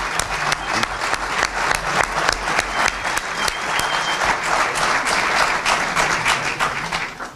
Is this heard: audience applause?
yes